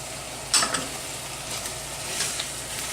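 A clams casino mixture stirred in a hot pan, a steady sizzle of frying with a couple of brief scraping stirs near the start and middle.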